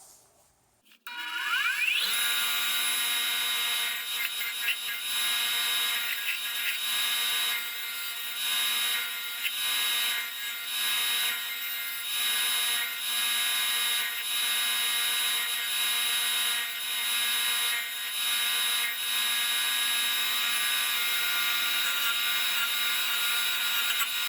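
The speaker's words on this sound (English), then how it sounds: "I'm going back to the grinder, and we're gonna get rid of that little bit of excess material and kind of smooth it off" Grinder smoothing excess metal off a small key-chain alcohol stove, a loud continuous high-pitched whine that holds steady for over twenty seconds, with slight dips in pressure as the piece is worked.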